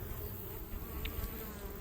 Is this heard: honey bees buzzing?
yes